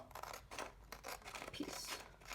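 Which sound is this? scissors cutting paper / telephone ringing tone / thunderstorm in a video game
scissors cutting paper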